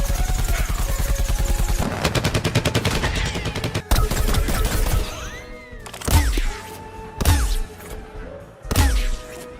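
Gunfire in the cartoonish shooter game Plants vs Zombies Garden Warfare: loud rapid automatic bursts at first, then heavier single booming shots spaced about a second apart, each with a short ringing tail.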